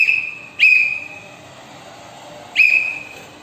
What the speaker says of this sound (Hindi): चलिए सीटी की ध्वनि आप लोग सुनिए।